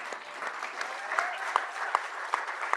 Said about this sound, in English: I just want to give a special round of applause to my dear friend Destiny Wolf and her sisters